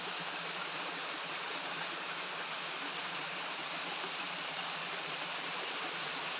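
The Tak Abek waterfall pours in a steady, broadband rush of falling water, loud and continuous at close range, with no voices or other sounds breaking through.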